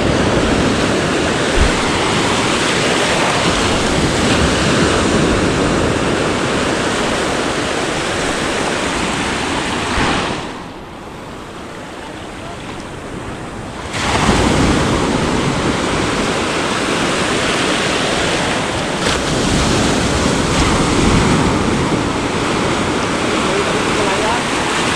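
Ocean waves wash onto a shore as the sea calms and the waves grow smaller, a continuous loud rushing surf that briefly drops away in the middle before returning, with voices speaking now and then.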